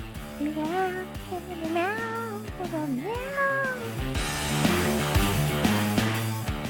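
A cat meowing several times in a row, rising and falling drawn-out calls over background music, fairly close and clear.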